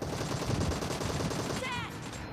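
Rapid, dense gunfire crackles through a BGMI team deathmatch, a loud continuous barrage of shots with a brief electronic whine near the end.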